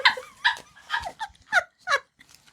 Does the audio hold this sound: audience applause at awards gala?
no